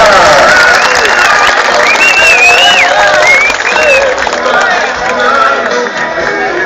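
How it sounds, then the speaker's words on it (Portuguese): Crowd clapping and cheering at the opening of a rodeo festival in Nova Aparecida, Minas Gerais, loud and sustained, with whistles and shouts rising over the applause and a busy murmur underneath. "Uma salva de palmas também a Nossa Senhora de Aparecida"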